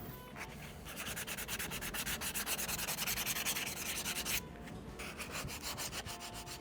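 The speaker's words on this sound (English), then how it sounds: "it's time to start sanding" An old deer antler shed, repaired with epoxy, being sanded by hand in steady back-and-forth rasping strokes, close and continuous, with one short pause partway through and no voices.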